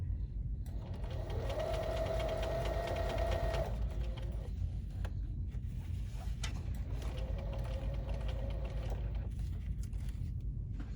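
A Bernina sewing machine stitches in an invisible zipper, running in two steady, buzzing bursts of several seconds each with a pause between, close up over a low background hum.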